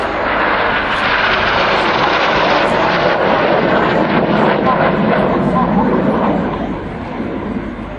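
Red Arrows jets fly in close formation at an RAF Waddington display, a loud continuous roar of aircraft engines with wind buffeting on the microphone, fading slightly at the end while someone talks over it.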